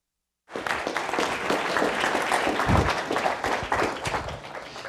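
Audience applause swells after a brief silence and holds steady as sustained, dense clapping from a crowd welcoming a speaker to the stage.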